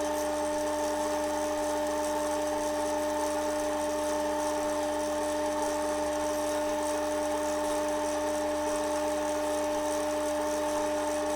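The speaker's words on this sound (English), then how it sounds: "So now I'm going to sand that down with the 1200." A pen finish built from coats of medium is sanded with 1200 grit abrasive, likely on a spinning lathe, under a steady motor drone with strong tonal hum and a faint continuous hiss, unbroken and without talk.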